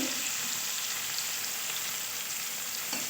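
Onion stalks sizzle steadily in a hot pan for a poppy seed dish, a continuous close frying hiss that stays even throughout, with no voices.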